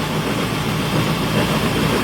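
The engine of an old Chokvichit combine harvester runs in a steady, loud, continuous drone with a heavy low rumble and no breaks.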